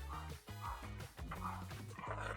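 A dog whimpers and yips in a kitchen while cornmeal porridge is cooking, giving short repeated whiny cries close by.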